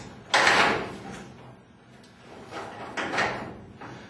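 A garage door rises after a torsion spring replacement: two separate rumbling, rolling surges of movement with a short quieter gap between them, heard fairly close.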